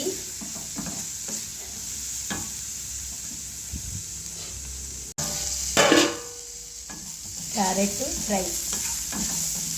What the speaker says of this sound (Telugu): కొంచెం పసుపు వేద్దాం. Carrot fry,